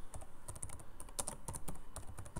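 Rapid keyboard typing with clustered, uneven keystrokes running steadily throughout, fairly close and moderately loud, while a name is entered for a tool link in Blackboard.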